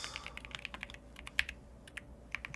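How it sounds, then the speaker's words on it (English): Quick, uneven keystrokes clatter on a computer keyboard during a live coding stream, a series of light clicks with one sharper tap, close but quiet over a faint background hum. "Let me just start typing something, man."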